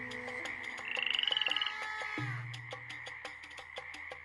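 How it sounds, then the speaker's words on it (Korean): Frog croaks as a sound effect for the plague of frogs in a children's Bible story: a chorus of repeated, rhythmic croaks and a rapid trill, layered over a busy background of clicks and tones. "두 번째로 하나님은 개구리를 보내셨어요."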